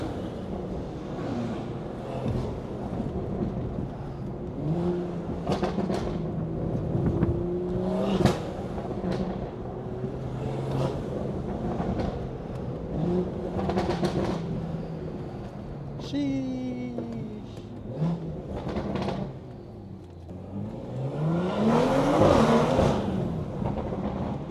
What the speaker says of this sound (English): Damn, my car sounds so good out here, bro.